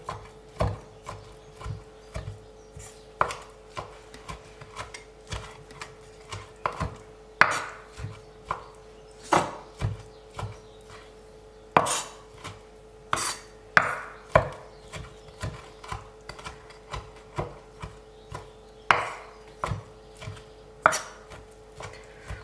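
Knife chopping fresh herbs on a board for a young herbed cheese, heard as irregular sharp close taps in quick bursts with short pauses, alone and fairly quiet.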